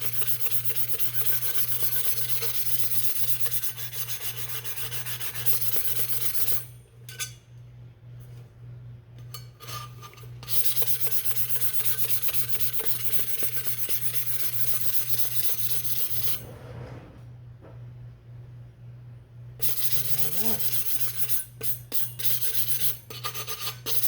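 Steady gritty rasping of sandpaper rubbing a hard resin tumbler, continuing for long stretches with a few short pauses, over a constant low hum.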